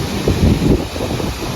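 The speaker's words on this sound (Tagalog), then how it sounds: "Ah, lakas ng hangin." Steady roaring gusts of strong wind buffet the microphone near a waterfall in Norway, a dense low rumble that swells and eases, with water faintly rushing underneath.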